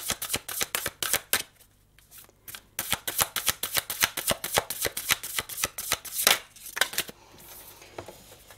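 A deck of tarot cards is riffle-shuffled again and again for a spiritual reading, giving fast, loud, close bursts of flapping card noise with brief pauses between shuffles and no talk.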